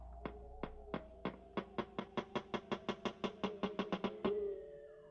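A gray whale's steady series of about twenty sharp, evenly paced knocks, recorded underwater, growing slightly louder and faster, ending in a brief ringing tone.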